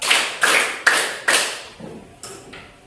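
A room of participants doing a rhythmic clap game in a teacher training session, four crisp unison claps followed by three softer ones, evenly paced and slightly echoing.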